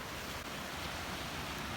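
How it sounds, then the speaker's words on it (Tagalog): Sea waves where a river flows into the sea at Nagsayaoan, Santa Maria, Ilocos Sur, heard as a steady, broad wash of surf with some wind noise, continuous and fairly close, with no voices. "Ito yung dagat na yun na inaagusan ng river dun sa Nagsayawan"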